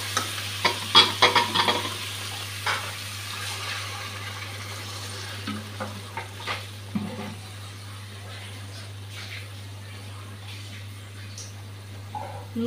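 Koi fish dropped into well-fried spice paste for a thick Bengali jhal, with a busy sizzle and stirring clatter early on that settles into a steady low frying hiss alongside a constant hum.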